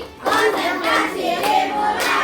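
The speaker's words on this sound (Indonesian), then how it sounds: "Tepuk konsentrasi." Fifth-grade pupils in a classroom clap out a patterned concentration rhythm together, several rapid bursts of hand claps at moderate loudness, with faint children's voices underneath.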